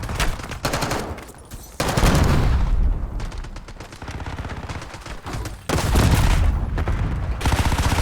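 Heavy Call of Duty gunfire rattles in loud automatic bursts, with dense overlapping shots that swell, ease off for a few seconds, then surge again close and intense, with no voices.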